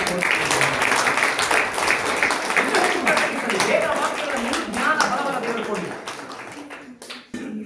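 A church congregation claps together in a sustained burst of applause mixed with a speaking voice, then the clapping thins out and fades near the end.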